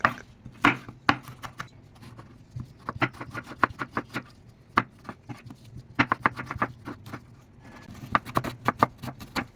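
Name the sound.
knife chopping vegetables into julienne strips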